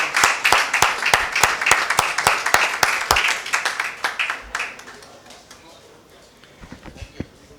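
An audience at an annual general meeting claps in a strong, rhythmic burst of applause that gradually thins out and fades, leaving a few scattered claps at the end.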